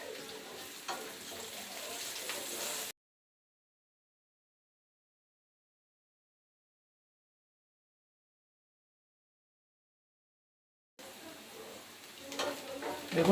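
Onions fry in a pan while bitter gourd bhaji is prepared, giving a soft, steady sizzle. A long stretch of silence falls in the middle before the sizzling returns and builds louder near the end.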